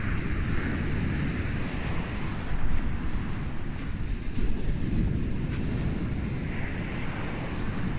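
Sea waves washing onto a beach under gusty wind, a continuous rumbling surf with wind buffeting the microphone and a couple of swells rising and fading, no speech.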